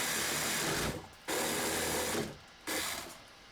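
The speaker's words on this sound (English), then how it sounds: "You can see how quick and easy it is to work with this saw." A hand saw cuts through PVC pipe in three quick, rasping strokes with short pauses between them, close and fairly loud.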